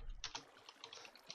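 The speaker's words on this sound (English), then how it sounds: "I'm busy typing out the rope." Quiet, quick keystrokes tap on a computer keyboard during a Minecraft session, a short cluster of soft clicks close by with no speech.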